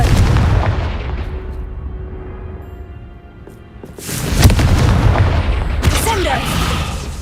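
A Confringo fire spell blasting in Hogwarts Legacy, with loud booming bursts and crackling impacts after a brief quieter lull, amid busy game sound and some speech.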